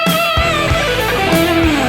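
Electric guitar playing a short solo phrase, a bright overdriven run with a bending held note near the end, loud and close, cutting off abruptly.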